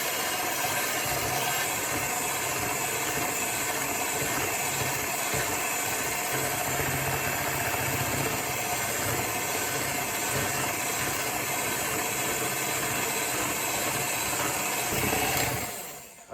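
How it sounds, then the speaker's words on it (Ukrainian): An electric mixer beating eggs and sugar into cake batter, a steady loud whirring drone that runs unbroken for about fifteen seconds before cutting off. "Це все гарно перемішуємо міксером."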